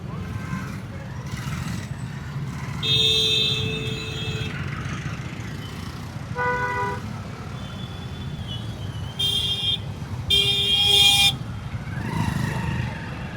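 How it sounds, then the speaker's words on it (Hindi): Gridlocked traffic at Kalindi Kunj in Delhi, with a low, constant rumble of idling and creeping engines and several separate car horn toots and longer honks breaking in throughout, one loud cluster near the end. "भाई थोड़ा ट्रैफिक जाम दिखा रहे हैं।"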